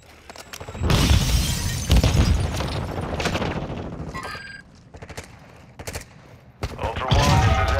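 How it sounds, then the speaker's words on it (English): Gunfire in the Call of Duty DMZ video game: loud bursts of automatic fire and booming impacts come in waves, with short lulls and a brief electronic beep, and game radio voices sit under the shooting. "You are taking effective fire."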